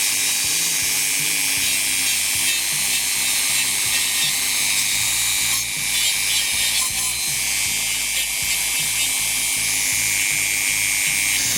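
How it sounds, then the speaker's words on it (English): A Dremel rotary tool running at about half speed grinds on wire during a German Black Forest quarter-hour cuckoo clock restoration, a steady loud high whine with brief dips as the bit meets the metal, nothing else heard. "I'm only using the Dremel on about half speed."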